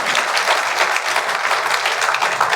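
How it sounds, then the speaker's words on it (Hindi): Loud, dense applause fills a hall at the first Kanshi Ram memorial lecture, a steady roar of many hands clapping close by with no voices over it. "ताली जोर से बजा दीजिए।"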